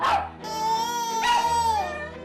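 A pet dog barks and whimpers insistently in a home with a crying baby, its sustained, tonal howling cries filling the whole stretch close to the listener.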